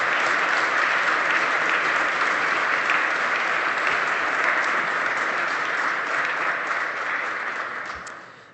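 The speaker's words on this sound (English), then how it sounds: "Let's give another warm round of applause for Governor Rick" A lecture audience gives former Pennsylvania Governor Tom Ridge a warm round of applause after a cyber terrorism talk, steady dense clapping throughout that tapers off near the end.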